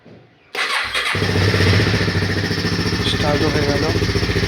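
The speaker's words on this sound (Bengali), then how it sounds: "সেলফ মারব এখন।" A Honda CB300R motorcycle in neutral is electric-started: a short whir of the starter, then the engine catches and settles into a loud, steady, throbbing idle up close.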